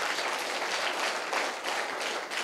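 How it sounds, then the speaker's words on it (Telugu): Sustained applause from a student audience filling a government intermediate college hall, dense steady clapping throughout with slight surges. "అందరు చప్పట్లు కొట్టండి సార్"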